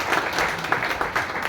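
Audience applause at a speech by an education minister at a book event, a steady wash of clapping from a sizable crowd for under two seconds, with no voices rising above it.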